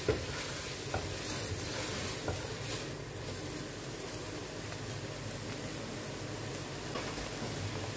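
Boiled spaghetti being stirred with crushed black pepper and salt, a steady soft scraping and sizzling hiss lasting throughout, close and moderately quiet, with no talking.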